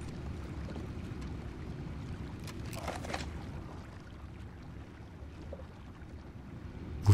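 Low rumbling engine drone of a boat on water in Red Dead Redemption 2, with soft wind and a brief splash or whoosh midway, steady and moderately loud.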